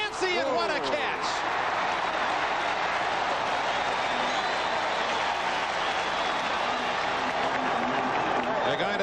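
A packed football stadium crowd at the 1982 Rose Bowl between Washington and Iowa roars after a catch, with dense, sustained cheering that holds steady throughout as someone speaks briefly near the start.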